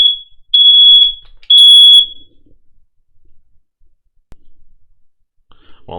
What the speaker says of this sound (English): Just a super loud beep out of nowhere.